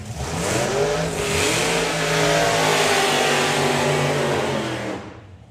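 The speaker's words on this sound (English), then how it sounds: "So that is the Thunder God in the Auto Glim Lane with the Supercharged Big Block Chevy in there with Des Taylor at the wheel." Supercharged big block Chevy nostalgia drag car at Santa Pod Raceway revving hard, a loud harmonic engine roar swelling and holding for several seconds before cutting off abruptly, heard from some distance.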